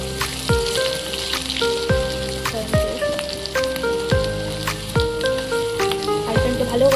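Spice-coated potatoes frying in oil in a kadai give a steady, crackling sizzle like light rain, heard beneath louder melodic background music with descending tones.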